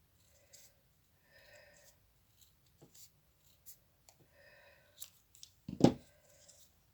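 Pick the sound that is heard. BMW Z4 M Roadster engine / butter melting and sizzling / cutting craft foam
cutting craft foam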